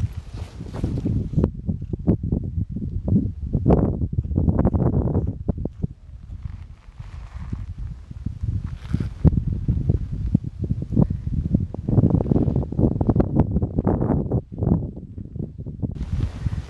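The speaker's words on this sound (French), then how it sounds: "Il fait froid, il y a un peu de vent là" Cold wind gusting across an exposed mountain crater trail on the Tongariro crossing, a steady broadband rush with buffeting surges and rustling throughout, close to the microphone.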